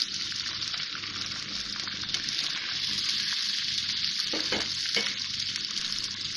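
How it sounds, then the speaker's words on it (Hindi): Spices for butter chicken fry in a pan with a tablespoon of water, giving a steady close hiss and sizzle with occasional stirring scrapes and bubbling bursts; no one speaks. "और थोड़ा सा 1 टेबल स्पून पानी डाल के भून रही हूँ ताकि मसाले जले नहीं।"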